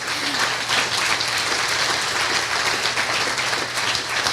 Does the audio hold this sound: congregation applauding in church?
yes